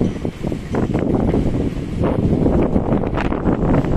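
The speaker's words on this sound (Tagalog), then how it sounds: "Ang lakas ng hangin." Strong wind buffets the microphone in a steady, loud roaring rush with gusting surges, close and continuous, outdoors at Souq Waqif in Doha.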